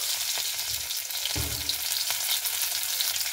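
Crushed garlic fries in oil in a wok with black seeds, making a steady, close hiss of sizzling and one brief stir partway through.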